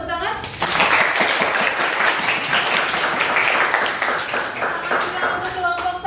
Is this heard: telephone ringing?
no